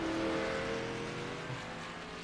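Race cars in a racing video game roar continuously at moderate level, engines droning with shifting pitch as the cars run, with no voices over it.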